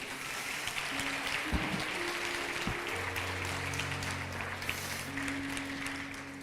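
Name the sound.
church congregation applauding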